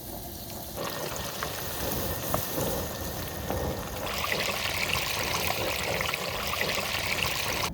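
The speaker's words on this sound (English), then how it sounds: "Going straight into the hot oil." Beer-battered, bacon-wrapped bratwursts deep frying in hot oil, a dense, steady crackling sizzle that stays loud throughout and brightens partway through, with no talking.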